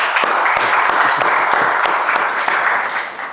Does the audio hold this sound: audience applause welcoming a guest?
yes